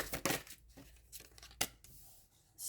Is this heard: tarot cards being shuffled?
yes